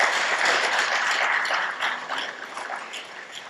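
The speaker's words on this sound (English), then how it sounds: "A quick clap for them." An audience at a community master planning workshop claps together, a dense patter of many hands that starts full and gradually thins and softens.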